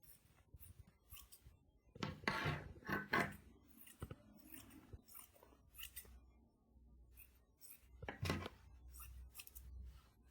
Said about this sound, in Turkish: İlk önce el elyafı kesiyorum.